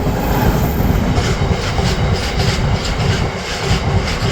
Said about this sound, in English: Why, a Genesee and Wyoming locomotive, of course.